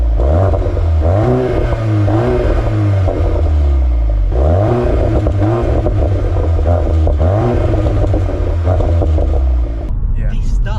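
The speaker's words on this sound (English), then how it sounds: "they've definitely synthesised that 5-cylinder sound" Five-cylinder exhaust note of a Golf R and Audi S3, rising and falling in repeated revving sweeps, loud and close with a steady low rumble, while people talk over it.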